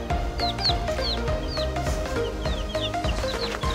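Young chicks peep steadily as high, short chirps repeating irregularly and close by, over a continuous low background.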